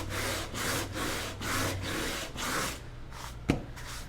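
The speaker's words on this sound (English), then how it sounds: "just wet sand it to blend it down" Wet sanding paint on a stenciled farmers market clock face, a close, steady back-and-forth rasp in about six even strokes, ending with a single sharp knock.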